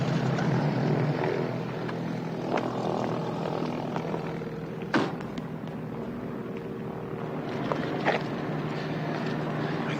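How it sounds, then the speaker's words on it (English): A helicopter drones in a steady, loud rotor wash that fills the whole stretch, with a couple of sharp bangs cutting through. "Hey, Cody, isn't that the helicopter that attacked us?"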